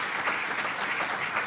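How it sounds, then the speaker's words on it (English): A meeting audience claps together in a short, steady burst of applause, moderately loud and without talk. "let's give a round of applause to everybody who's on this list"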